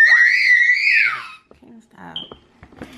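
A little girl screams and cries loudly for over a second in a high wailing burst while talking to someone on the phone, followed by quieter fragments of adult and child speech.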